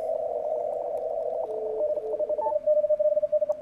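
Morse code CW keying is heard through a 300 Hz roofing filter on a ham radio receiver during contest conditions: a narrow steady tone that breaks into rapid pulsed dits near the end, under faint background hiss.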